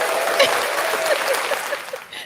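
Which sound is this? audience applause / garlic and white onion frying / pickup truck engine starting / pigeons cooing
audience applause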